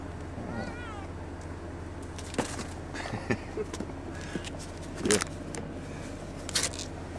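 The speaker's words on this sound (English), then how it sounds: "Yeah, he's purring, but he wants to check it all out." A cat in a parked van gives a couple of short meows early on against a low steady hum, followed by scattered faint rustles and clicks nearby; no clear purring stands out.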